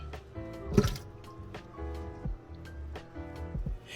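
Warm leek and potato soup is poured and spooned into a blender, giving wet drips, squishy plops and liquid splashes in irregular bursts at close range with no talk.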